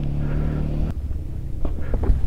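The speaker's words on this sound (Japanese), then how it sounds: "エンジン音は聞こえてる。" An engine runs with a steady low rumble, close and fairly loud, with a brief change in tone partway through.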